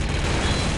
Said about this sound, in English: Actually, I'll just grenade you.